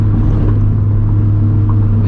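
Turbocharged FRS running about 9 psi of boost pulling hard in second gear, a steady loud engine drone with little change over the short stretch.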